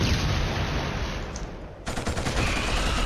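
Dense, sustained gunfire in the video game Killzone, a continuous wash of shots that dips briefly and then resumes as rapid automatic fire.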